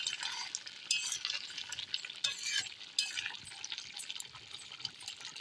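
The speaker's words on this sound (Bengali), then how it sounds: "ঢাকনাটা উঠায় একটু রান্না করে নাড়াচাড়া দিয়ে দেবো" A fish curry is stirred in a pan, a utensil scraping and turning through the sizzling spiced sauce in a steady, close, moderately quiet rhythm.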